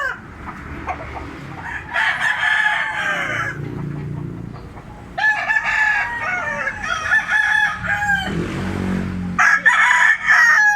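A bullstag rooster crows loudly and close, three drawn-out cock-a-doodle-doo calls spaced through the stretch, with softer clucking and scratchy noises between them.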